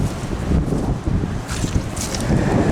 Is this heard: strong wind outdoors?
yes